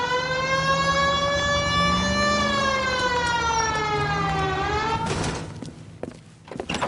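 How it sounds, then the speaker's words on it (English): An LAPD police car siren in a video game wails loudly, its tone sliding up and down in long sweeps before cutting off, leaving engine and street noise. "Hit the siren."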